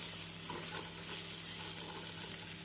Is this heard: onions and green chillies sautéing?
yes